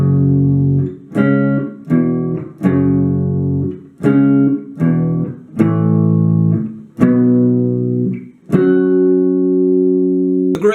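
Guitar playing the pre-chorus riff of a song: clear, close strummed chords in a repeating rhythmic pattern of short bursts and a final sustained chord, with no voices.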